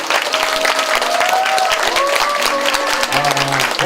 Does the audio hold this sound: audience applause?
yes